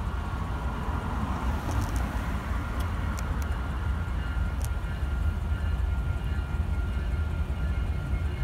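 A mixed freight train rolls past at an evening railside spot, producing a steady, loud rumble of wheels and cars with faint metallic squeals, continuous with no voices.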